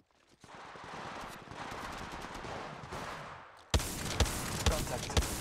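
Bursts of automatic gunfire from Apex Legends, a battle royale shooter, crackle through a busy in-game mix, turning into sharper, louder shots near the end over steady background noise.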